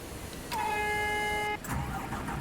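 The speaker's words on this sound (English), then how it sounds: "I've just realised that I've got the horn and the ignition set to the same button" A bus horn in a bus driving game sounds one steady, loud, tonal blast of about a second, sharing a button with the ignition, then an engine cranks and catches with a rough rumble.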